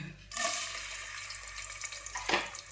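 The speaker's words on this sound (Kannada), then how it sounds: "ಕುಕ್ಕರ್ಗೆ ಎಣ್ಣೆ ಹಾಕಿದ್ದೇನೆ ಆಮೇಲೆ ಅದಕ್ಕೆ ನಾನು ನೀರುಳ್ಳಿ ಹಾಕ್ತಾ ಇದ್ದೇನೆ" Onions frying in oil inside a pressure cooker give a steady broadband sizzle that begins sharply after a brief quiet start and runs on evenly, with a small clatter near the end. No one speaks.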